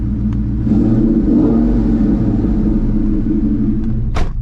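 Ford Mustang Mach 1 engine close up, idling with a deep rumble that climbs into a short rev and settles back, ending with a sharp brief noise.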